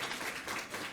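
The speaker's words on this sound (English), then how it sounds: "Let's have another big round of applause for all four of them." An audience applauds four panelists at an April Fools' debate, a dense, steady wash of many hands clapping throughout with no voices above it.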